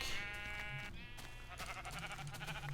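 Sheep bleat in the video game, several nasal calls one after another, close and clear over a steady background music bed.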